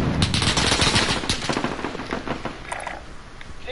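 Rapid sustained machine-gun fire in Call of Duty Modern Warfare, dense loud bursts up close that taper slightly toward the end.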